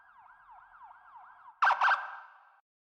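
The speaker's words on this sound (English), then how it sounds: "Police siren was an interesting choice." A police siren sound effect wails in repeated rising sweeps at low level, then two sharp, louder bursts cut in over it before the tone fades out, with no talking.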